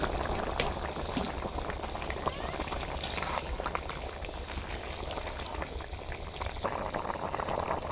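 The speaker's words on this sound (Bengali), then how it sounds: "ঝোলটা ফুটে উঠেছে" Katla fish curry gravy boiling steadily in a pan, a dense close bubbling and hiss throughout with occasional sharper pops, no voices.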